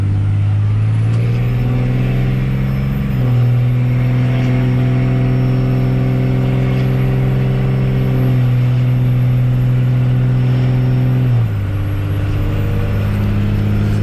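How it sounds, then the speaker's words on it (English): A big Cummins diesel truck engine drones loudly, its pitch climbing through several gear changes as it pulls away with a trailer load, close and continuous. "figured you want to hear the glorious sounds of Cummins taking off the trailer load"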